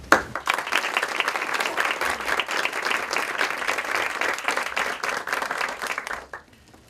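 An audience claps warmly for an author at a bookstore reading, a dense, steady round of applause that fills the room for about six seconds before stopping abruptly.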